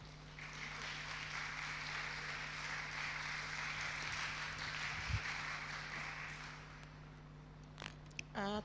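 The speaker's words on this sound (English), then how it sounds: "let's all give a warm round of applause for Professor Ied Vide" Warm round of applause from a conference audience welcoming a professor, a steady mid-distance patter of many hands lasting several seconds before fading, set against faint room hum.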